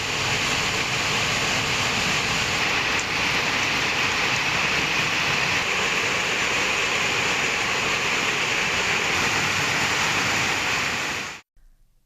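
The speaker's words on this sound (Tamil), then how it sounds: "தேனி நகர் மற்றும் சுற்றுவட்டார பகுதிகளில் 2வது நாளாக கனமழை பெய்தது." Heavy rain pours down steadily as a dense, continuous hiss for about eleven seconds, then cuts off abruptly.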